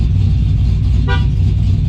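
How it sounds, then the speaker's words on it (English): A single short horn honk from a 2018 GMC Denali pickup with a 6.2 engine cuts over a steady low engine rumble, then the idling rumble continues alone. "Right now it's set to honk, so if we push on it,"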